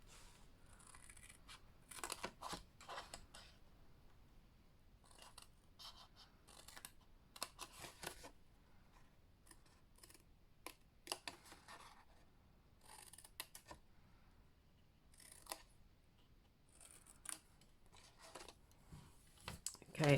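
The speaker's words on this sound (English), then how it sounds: "we're just going to trim off those little edges" Scissors trim the small paper edges of a papercraft gift tag box, making crisp, close snips that come in irregular clusters separated by quiet pauses.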